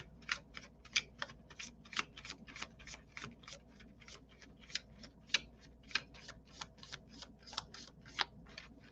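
Tarot cards shuffled by hand in a steady run of about thirty crisp riffling flicks, roughly three per second, close and fairly quiet over a faint background hum.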